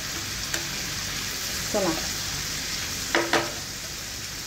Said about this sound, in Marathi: तवा फ्राय जिली कोलंबी शिमला मिर्च टाकून